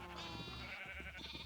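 Sheep bleats from baby and adult sheep in the video game Minecraft, a dense run of wavering tonal bleats overlapping throughout, fairly close and steady, with no talk.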